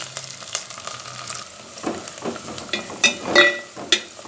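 Onion and garlic sautéing in a pan, a soft crackling sizzle with a few louder stirring clinks and scrapes toward the end.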